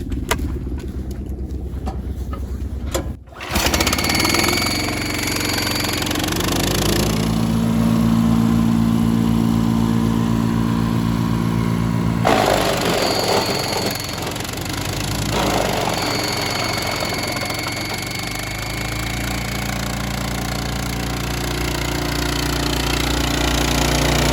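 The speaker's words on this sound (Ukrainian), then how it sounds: "А зараз ми вам покажемо, що буде, якщо неправильно подавати гілки і не давати двигуну набрати оберти." An ARPAL wood chipper engine runs loud and close while branches are fed in, a continuous droning roar whose pitch shifts and strains over time after a short break near the start.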